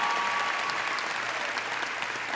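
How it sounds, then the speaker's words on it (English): A large graduation crowd for the San Antonio class of 2014 applauds, a continuous, loud wash of clapping from a big audience with no voices over it. "let's just take a moment to give yourselves a round of applause to the San Antonio class of 2014."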